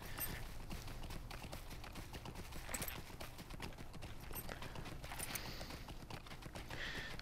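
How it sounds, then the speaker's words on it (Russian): Horse hooves gallop in a steady, fast clip-clop rhythm in The Lord of the Rings Online video game, with a brief whinny possible, continuous and fairly quiet throughout with no talking. "Ну а теперь можно и сесть на кобылу и ускакать отсюда нафиг."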